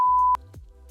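A single loud censor bleep, a pure steady tone lasting about a third of a second before cutting off abruptly, followed by low background noise.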